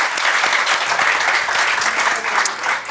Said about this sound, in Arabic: صفقوا لهم الله يعطيهم الصحه